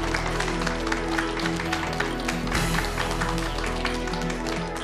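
Studio audience at a Korean lecture-style talk show gives a dense, steady round of clapping to welcome the guest professor, filling the room at a sustained level.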